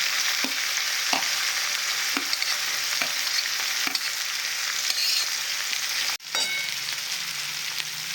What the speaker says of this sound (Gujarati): ગેસની ફ્લેમ થોડી વધારીશું અને ચડવા દઈશું ડુંગળીને.